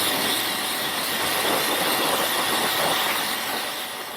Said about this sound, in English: the K2 did a great job of removing the light dirt off the wheels